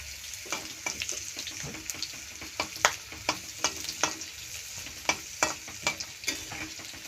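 Whole spices such as bay leaf, cinnamon, cardamom and cloves fry in a pan with a soft sizzle. A spatula scrapes and stirs in regular strokes, close and fairly quiet.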